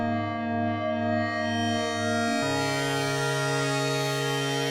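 A Sequential Trigon 6 synthesizer sustains a bright, traditional FM-style tone, a steady held note that shifts pitch once midway and rings on alone without any talk.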